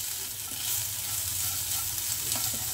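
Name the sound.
stirring bitter gourd rings frying in a pan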